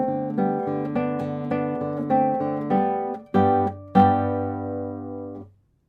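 Classical guitar plays the closing bars of Carulli's Rondo op. 241 no. 34, with plucked notes and strummed chords building to a few strong final chords that ring out and fade to silence.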